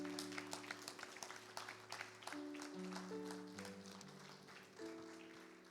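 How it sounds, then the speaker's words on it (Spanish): Applause from a church congregation carries on under sustained organ or keyboard chords. The dense clapping is fairly soft and steady, then thins as the music continues. "¿Por qué no le das un aplauso a Dios?"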